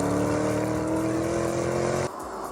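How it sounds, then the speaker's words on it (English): A 641-horsepower Lamborghini driven on snow and ice gives a loud, steady engine drone with strong harmonic tones, holding even before dropping off abruptly near the end. "I'm currently driving on snow and ice in a car that has 641 horsepower rampaging around underneath its bonnet."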